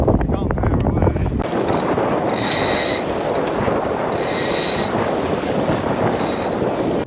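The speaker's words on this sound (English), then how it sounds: "now we're going through some overfalls because we've got a lot of tide with us" A small sailboat racing offshore pushes through tidal overfalls at about 8 knots with a strong tide under it, giving a steady loud rush of water and wind noise that holds for the whole stretch, with faint mechanical creaks at intervals.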